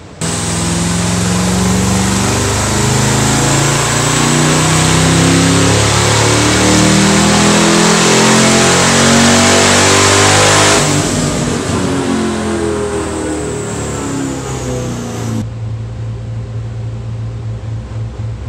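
A roughly 1,000-wheel-horsepower car on 93-octane pump gas roars on a dyno through its 10-speed automatic, a loud sustained run climbing in pitch through the gears before cutting back to a lower drone.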